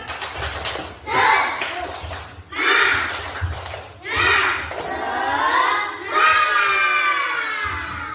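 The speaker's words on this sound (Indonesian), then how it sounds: "Tepuk semangat" Schoolchildren perform a spirited clapping chant in loud bursts, shouting and clapping together in roughly four energetic rounds separated by short pauses, with an adult voice leading between them.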